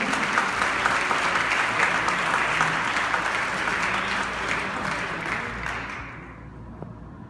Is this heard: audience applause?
yes